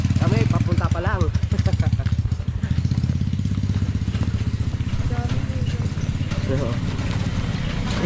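A Yamaha Aerox 155 scooter engine hums steadily while riding along a rough, rocky road, its even mid-pitched putter continuous and close, with a voice speaking over it at times.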